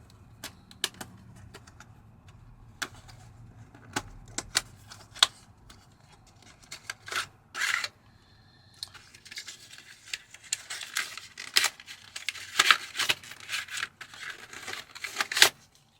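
Unboxing an OtterBox Defender Pro phone case, with sharp crinkles, tears and snips of packaging that start sparse and grow into a dense, close run of rustling and cutting toward the end, with no talk.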